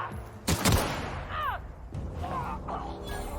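Gunshots in The Outer Worlds: one sharp, loud shot near the start, then quieter impacts and fainter shot-like sounds in a game scene with low ambient noise.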